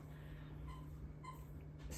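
A puppy whimpers faintly in short, soft high whines against a steady low hum in a quiet room.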